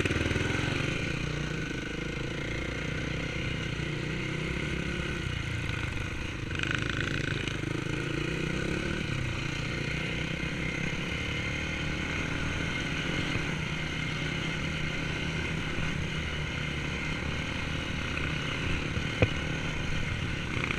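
A motocross motorcycle engine runs steadily for the whole stretch, a mid-pitched droning idle with a rough mechanical clatter and only small shifts in level.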